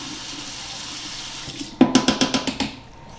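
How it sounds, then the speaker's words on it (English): A kitchen tap running as a spatula is rinsed, a soft steady stream followed by a quick series of about seven sharp clattering knocks near the end. "Rinse off my spatula here."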